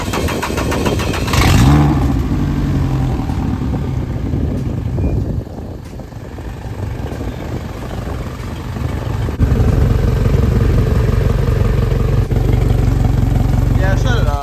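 A 175 HP outboard motor on a boat is cranked and starts, then idles roughly and revs up loud and close, while people talk over the running engine.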